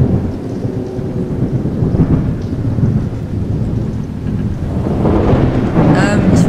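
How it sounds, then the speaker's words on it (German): Thunderstorm with lightning in the video game Hinterm Horizont: loud continuous rain and rumbling thunder fill the scene, swelling toward the end, with no one speaking. "Ich würde sagen, das war ein Blitz."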